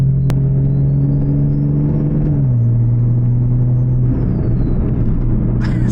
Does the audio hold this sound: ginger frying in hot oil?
no